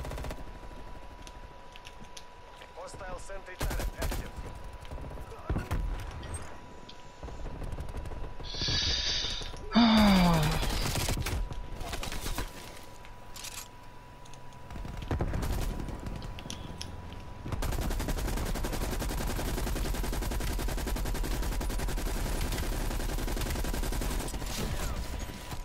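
An RPD light machine gun fires in a video game amid busy game noise, with bursts and layered shots, mechanical clatter and a sliding tone, ending in a long, dense sustained roar.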